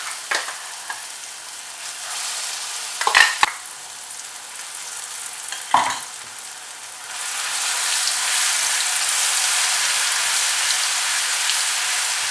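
Ground dried red chilli paste fries in a pan for a Tamil-style tomato chutney, giving a steady broadband sizzle that brightens and intensifies partway through, with a few brief stirring scrapes and clinks early on.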